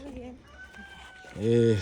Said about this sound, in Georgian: ის ძალიან ყვირის. ვინ აყვირის? კოკო. მამლები არიან, ქათმები არიან ქვევით.